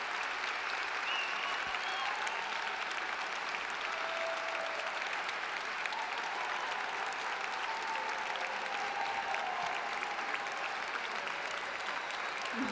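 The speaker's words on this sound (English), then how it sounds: "Please give an enormous round of applause to your professors." A large graduation audience applauds its business school professors in steady, dense clapping that fills the hall and holds at an even level throughout, with no voices standing out.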